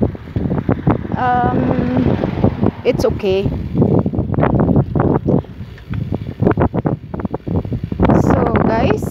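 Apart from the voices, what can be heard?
wind blowing on microphone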